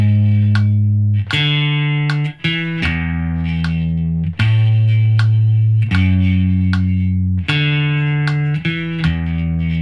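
Electric guitar playing the verse of a song, a loud, steady chord progression with sustained strummed chords and brief changes between them, lightly distorted and ringing close.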